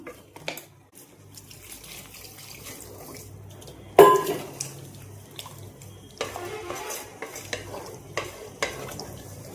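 Water is added to softened cooked tomatoes in a pan for a Tamil mutton dalcha, with a sudden splash and sizzle followed by scraping and stirring sounds, close and moderately loud with no talk.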